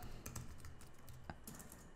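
A computer keyboard typing a MySQL query, with a short run of faint, quick key clicks and a brief pause in a quiet room.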